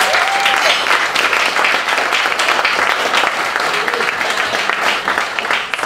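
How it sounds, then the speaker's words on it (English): An audience at a Los Angeles community talk gives a sustained burst of dense, loud applause that fills the whole stretch evenly, with many hands clapping at once and no clear break. "I think she deserves another big applause"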